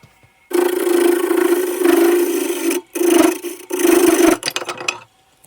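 Cherry wood turning on a wood lathe with a glued piece: loud rough rasping and rubbing in several long bursts with brief gaps, ending in a few short scrapes and clatters as the piece breaks off, then quiet.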